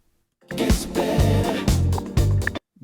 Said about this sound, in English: It's a disco song.